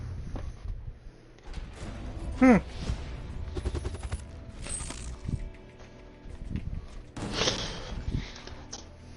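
Rapid video-game gunfire from Gungrave G.O.R.E, with bursts of shots cracking over a busy, noisy game soundtrack and one sharp, louder blast standing out near the middle.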